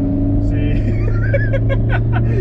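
A 1996 Toyota Hilux Surf SSR-G pulls at full throttle, its low, steady engine drone close and loud throughout, with a voice speaking over it.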